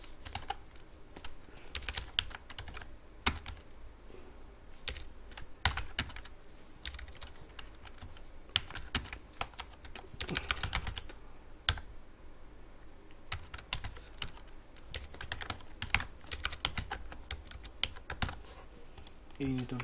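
Steady computer keyboard typing with irregular bursts of keystrokes and a few louder key hits, close and fairly quiet, while a Bengali Eid card design is being typed.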